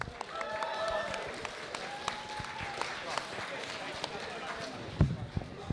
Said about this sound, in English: a round of applause for Bloodshot